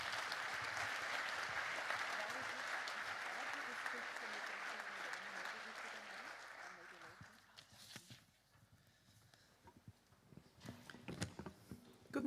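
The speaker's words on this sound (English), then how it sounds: "A round of applause, please, for the Director General." A conference hall audience at an opening ceremony applauds the Director General, dense sustained clapping for about seven seconds before it thins out and fades into scattered claps and room noise.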